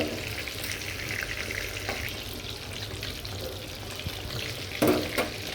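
Luchi (puri) frying in hot oil, a continuous bubbling sizzle with a brief splashy burst near the end and no voices.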